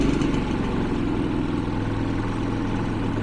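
A portable generator idles while charging an IONIQ 5, giving a steady, low, even engine hum, close and unbroken for a few seconds with no voices.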